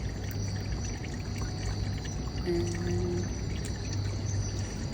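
Water trickles steadily beside a night hiking trail in Hong Kong, a soft continuous flow with faint tonal hums and light ambient noise around it.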